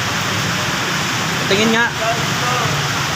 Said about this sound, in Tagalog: Malakas ang ulan, no?